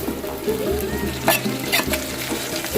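Chopped tomatoes with green chillies sautéing in a pan for a home-style paneer gravy, a steady sizzle broken by repeated scraping strokes of a spoon stirring, close and continuous with no talk.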